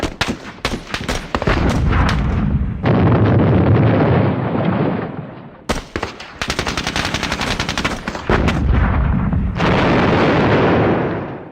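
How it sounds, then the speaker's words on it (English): Howitzer artillery shells explode in a war video game, a loud rolling barrage of heavy booms and rapid blasts that keeps going with brief gaps, close and dominant, with no voices over it. "You can see that the explosions actually covered quite an area, but thankfully they are doing nothing."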